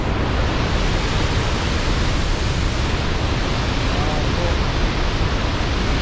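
The heavy roar of Victoria Falls in Zimbabwe, heard from a forest path with spray in the air, as a constant broadband rush that fills the whole clip at close range.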